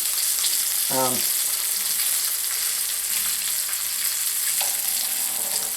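Whole catfish frying in a pan, a continuous loud, close sizzle and crackle of hot oil throughout, with a couple of brief faint tonal sounds in the background.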